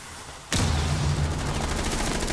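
Sudden burst of rapid automatic gunfire in Rainbow Six Siege erupts after a half-second lull, then keeps rattling loudly in a dense, continuous stream until the end.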